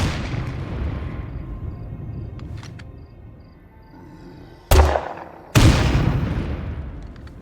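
Two loud grenade-launcher grenades burst in State of Decay 2, the first at under five seconds and the second about a second later, each a sharp boom with a decaying tail over a low, rumbling game ambience.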